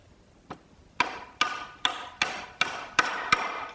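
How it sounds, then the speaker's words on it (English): A sharp wide chisel cutting a mortise in wood: one light tap, then about seven sharp, evenly spaced strikes, each ringing briefly and decaying, close and clear with no voices. "Just start chiseling it out. Good sharp chisel works here."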